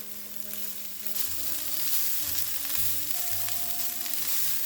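Broccoli and charred onions frying in a stir-fry pan, a steady close sizzle with a few stirring scrapes and low cooking tones running beneath.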